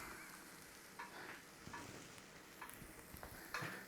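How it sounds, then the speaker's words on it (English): Onions sauteing in butter in a pan over gentle heat, a faint, soft sizzle broken by a few quiet clicks and scrapes of stirring. "We're going to saute those onions, quick smart."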